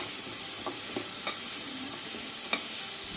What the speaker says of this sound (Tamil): வெங்காயத்தை நல்லா பொன்னிறமாக வர வரைக்கும் வதக்கிக்கலாம்.